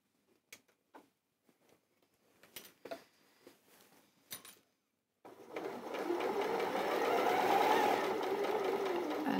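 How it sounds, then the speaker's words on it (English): A sewing machine stitches a seam on a geometric dress at a 1.5 cm allowance, running steadily and close for several seconds after a run of soft handling clicks and taps. "I'm just going to stitch down to the mark that I've already prepared"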